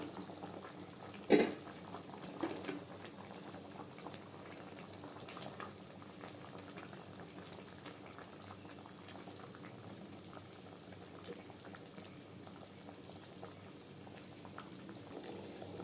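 A pot of katla fish curry bubbles and simmers quietly and steadily, with a soft clatter near the start, close but faint.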